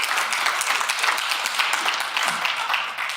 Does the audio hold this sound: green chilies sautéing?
no